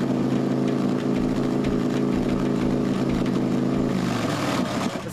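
Motorcycle held at about 3500 rpm through a loud American Vance & Hines aftermarket exhaust during a roadside police noise check, a steady, close, heavy engine drone that dips slightly at the very end.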